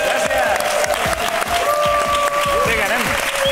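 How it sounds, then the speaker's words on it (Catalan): A studio audience on a Catalan TV show claps in a brief, steady burst while hosts keep talking loudly over it. "Un aplaudiment pels nostres assalariats."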